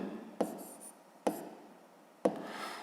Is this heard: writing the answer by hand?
yes